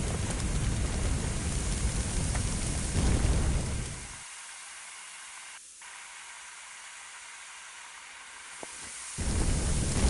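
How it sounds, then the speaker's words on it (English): A fire hose sprays water onto a fire in the Emergency Fire Fighter Simulator video game, a loud steady hissing rush that drops to a quieter hiss midway, then surges back at the end. "Now, grab a hose and put out the fire."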